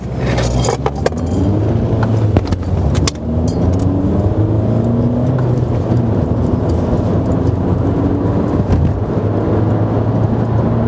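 A VW Caddy 2.0 TDI diesel van engine revs up through rising gears as the van accelerates from a traffic light, with road noise and a light jingling rattle throughout.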